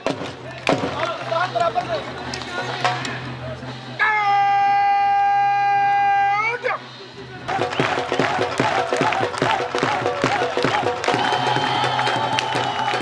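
An audience applauds and cheers as border guards parade at a military ceremony between Pakistan and India. A long sustained horn-like call sounds in the middle, then dense, loud clapping and crowd noise carry on to the end.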